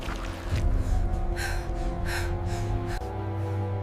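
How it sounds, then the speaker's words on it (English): A wildebeest in mud heaves loud, rhythmic gasping breaths close up, several labored pants repeating over a low rumbling background. "Labored breathing, splashing, determined grunts."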